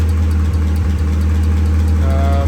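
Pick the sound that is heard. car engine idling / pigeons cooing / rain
car engine idling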